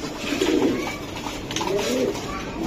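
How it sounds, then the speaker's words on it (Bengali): A racing pigeon cooing close by, a few soft throaty rolling coos in quick succession over faint background noise, no speech. "রোবেল, এটা কি কবুতর?"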